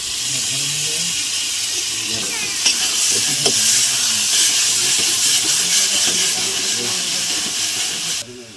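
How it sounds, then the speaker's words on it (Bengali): Spice paste of ginger, garlic, onion and tomato fries loudly in a pan for a mutton dish, a dense continuous sizzle with steam hiss and occasional scraping stirs, close and steady. "মশলাটা কষিয়ে নেব। আদা রসুন পেঁয়াজ টমেটো"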